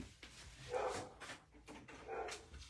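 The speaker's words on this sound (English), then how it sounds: "our boy Labrador tends to be a little bit more barky" A male Labrador barks indoors, several separate woofs spaced irregularly, with two stronger barks standing out, moderately close and not loud, with no talking.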